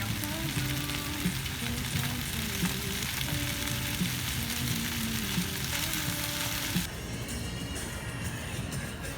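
Food stir-fried in a pan at a campsite, a steady sizzle with stirring scrapes and quiet voices in the background.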